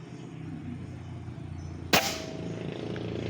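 A single sharp shot from a Mini Predator air gun cracks out close over a steady background hum, with a short fading tail after the report.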